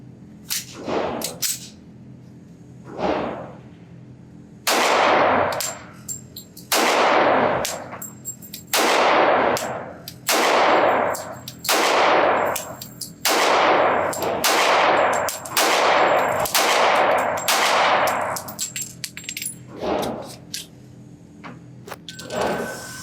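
Sig Sauer P226 Equinox .40 S&W pistol firing Hornady Critical Defense ammunition at a range: a slow string of about fifteen sharp, loud reports with ringing decay, spaced roughly a second apart after two earlier single shots.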